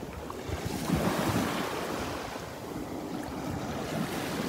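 Ocean surf washes onto a beach at Sand Dollar Island on Marco Island, Florida, a steady close rushing roar of waves mixed with wind buffeting the microphone.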